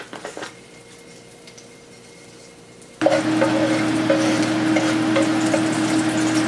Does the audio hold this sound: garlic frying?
yes